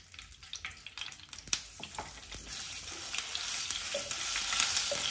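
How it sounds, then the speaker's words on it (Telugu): Ginger garlic paste hitting hot oil in a pan, scattered stirring clicks at first, then a steady sizzle that builds and grows louder, close by. "కొంచెం అల్లం వెల్లుల్లి పేస్ట్ వేసుకోండి"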